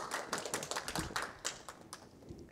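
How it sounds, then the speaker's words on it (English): A small audience at an Arabic calligraphy event gives a brief round of applause, quiet, sparse hand claps that taper off after a couple of seconds. "If we can please give them an applause for coming out today."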